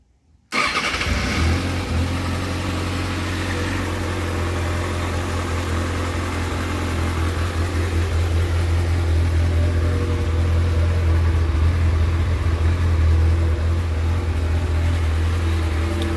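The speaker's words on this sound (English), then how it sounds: "Let me start her up for y'all." A warmed-up 2021 Kawasaki ZX-6R motorcycle engine fires up after a moment of silence and settles into a steady, loud, close idle that holds to the end, with no talk over it.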